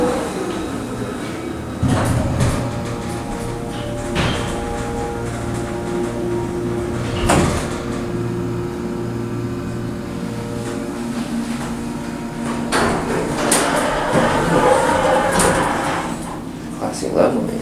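Dover traditional hydraulic elevator in a Sacramento building, its doors sliding with thumps and rolling rumbles amid a low hum and a chime, heard close with people talking at times.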